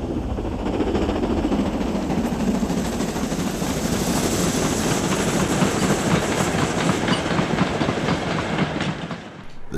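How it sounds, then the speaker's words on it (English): The steam locomotive Britannia Flying Dutchman hauls an express freight train loaded with cement and motor vehicles, producing a loud, continuous rumble and rhythmic clatter that rolls steadily past. "It's followed by Britannia Flying Dutchman on an up express freight."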